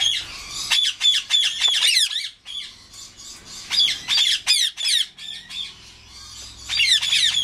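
A pet budgerigar, a double factored pastel violet lacewing, squawks and chatters in rapid harsh bursts, loud and close, with brief pauses between calls and no talking over it.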